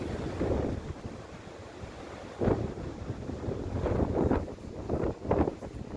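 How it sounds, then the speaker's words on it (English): Strong gusting wind at the Lennox Castle ruins buffets the microphone in low roaring surges, rising and falling in several loud gusts with no talk. "Windy as hell"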